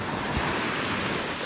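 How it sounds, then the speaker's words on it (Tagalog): Strong ocean waves at high tide on a white-sand beach, a continuous loud roar of surf mixed with wind buffeting the microphone, with no pauses. "Ayan oh, ang lalakas ng alon dito."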